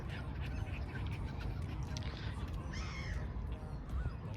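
A dense chorus of birds at the lake in Crângași Park in Romania, with caws and honks carrying over a steady low rumble of wind and distant background noise. A faint voice may be heard.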